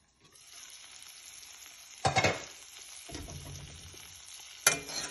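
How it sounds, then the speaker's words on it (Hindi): Arvi frying slowly in a pan, a continuous soft sizzle broken by two louder bursts as a ladle turns and scrapes the pieces over, close and alone. "बस इसको हम इसी तरह से 2-3 दफ़ा उसको उलट पुलट कर देंगे चमचे से"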